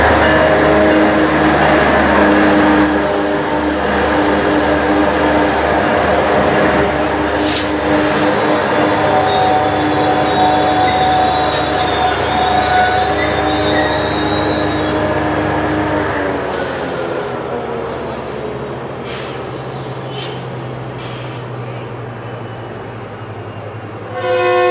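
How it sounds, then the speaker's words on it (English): A commuter train passes at Fullerton, loud and close, its wheels squealing in a high sustained whine over the rumble of the railcars, with the noise easing as the train moves off. "This is not a freight. It's a commuter train."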